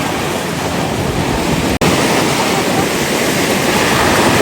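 Cold stream water flowing at an outdoor spot in Panama, a loud, steady rushing close by that runs without a break except for one very brief dip partway through.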